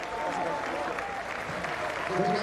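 A rugby crowd at a Lions versus Zebre Parma match applauds a debuting player coming on, steady clapping over distant crowd noise with a commentator talking over it.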